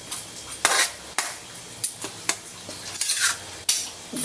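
A utensil stirs and scrapes the bottom of a pot of soup with luffa gourd and green chili, making repeated metallic clinks and scrapes in an uneven rhythm, close and clear with no talk.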